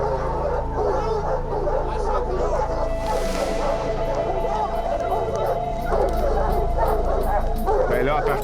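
Hunting dogs on a cougar hunt bark, yip and whimper excitedly over a loud, continuous background din, with people talking throughout.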